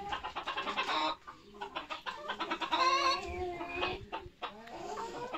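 Hens and a rooster in a coop, clucking and squawking close by in busy overlapping bursts, with no talking.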